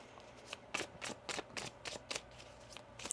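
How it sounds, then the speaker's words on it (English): A deck of tarot cards being shuffled, a quick run of soft riffling flutters in a steady rhythm, close but quiet, with no talking. "One more shuffle."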